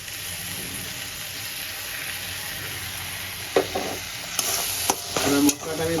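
Chopped tomato, green chili and garlic masala sizzles in a pan with a steady frying hiss, while a spatula stirs and scrapes in several sharp, louder bursts toward the end.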